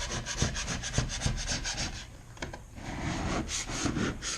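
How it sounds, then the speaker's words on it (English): A scraper drags wet wallpaper off a wall in repeated close rasping strokes, a rough scratchy rhythm that eases briefly before picking up again. "kind of wet it, and then take and scrape most of it off"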